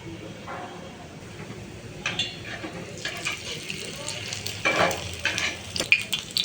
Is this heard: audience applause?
no